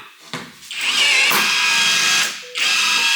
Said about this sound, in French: J'ai cette petite machine, c'est comme une perceuse avec un espèce de membrin spécial